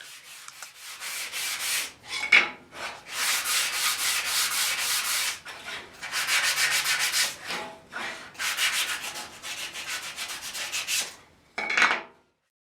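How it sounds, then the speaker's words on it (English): Wood is sanded by hand for a small bathroom sign, giving several bursts of dry rhythmic rubbing and scratching, close and steady, separated by short pauses. "a good woodworker always sands his work before finishing"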